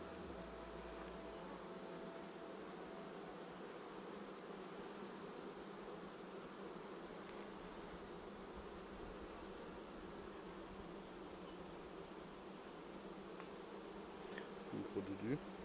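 Small bees buzz steadily at old beehive frames in an apiary in Cuba, forming a continuous, fairly faint droning hum throughout.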